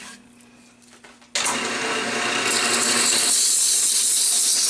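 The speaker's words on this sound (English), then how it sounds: "I'm going to take some sandpapers and start sanding it, but it's going to be the finer grits." Fine-grit sandpaper pressed against a spinning turned wood piece on a lathe, a steady loud broadband hiss starting abruptly after a quieter motor hum and holding continuously to the end.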